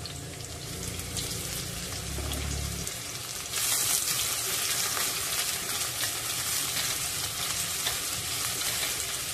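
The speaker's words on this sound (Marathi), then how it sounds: "कांदा मस्तपैकी सोनेरी रंग येईल इथपर्यंत परतायचा आहे।" Vertically sliced onions sauté in a pan for a village-style chicken curry, a steady bright sizzle with stirring that swells louder partway through and continues without any talking.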